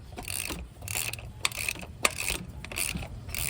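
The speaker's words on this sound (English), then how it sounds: "we're gonna crank this around a few times just to show that it rotates freely" A ratchet hand-cranking the engine of a 2005 Lexus ES330 with some spark plugs removed, giving steady repeated clicking strokes with a couple of sharper knocks, fairly quiet and close, with no voices.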